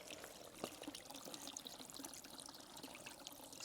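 Water trickles steadily and drips into a pool on a Portuguese homestead, a soft continuous splashing with faint scattered drops, fairly quiet and alone with no talk.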